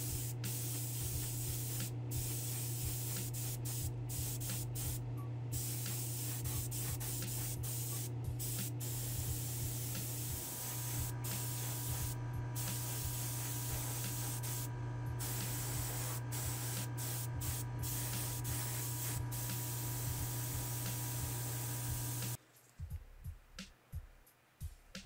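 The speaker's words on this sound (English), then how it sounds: "I think I'd like to give this a couple coats of primer just so I can double check the bodywork." Primer coats are sprayed steadily onto repaired car bodywork, a continuous close hiss with brief pauses between passes, ending abruptly near the end.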